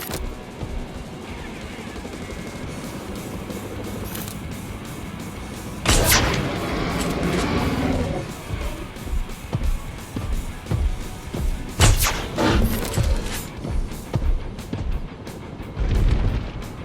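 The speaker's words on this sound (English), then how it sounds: "line it up in the sights of the rifle, shoot it with a few tranquilizer darts" Rifle shots firing tranquilizer darts at a T-Rex in a Jurassic World video game: three sharp, booming reports, widely spaced, over a continuous rumbling game background.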